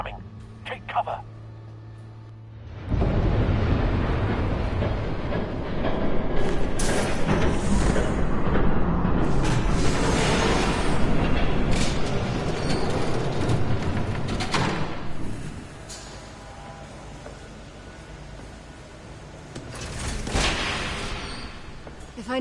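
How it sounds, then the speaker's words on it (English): A train rumbles past in a video game: a loud, sustained roar that swells in after a few quiet seconds and holds steady for nearly twenty seconds, close and heavy. "There's a train coming."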